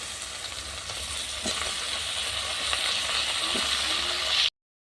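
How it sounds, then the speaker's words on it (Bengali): Potato, onion and green plantain sizzling together in oil on a clay stove, a constant close frying hiss that swells slightly, with occasional soft stirring scrapes, then cuts to silence near the end. "আলু পেঁয়াজ কাঁচকলা ভাজা ভাজা হয়ে গেছে,"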